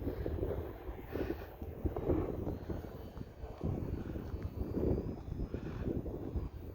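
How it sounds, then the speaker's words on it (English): Steady wind buffets the microphone in low rumbling gusts during a flight of a Qidi Maule M7 model airplane, with a faint distant helicopter drone underneath and no talking. "That's just the wind."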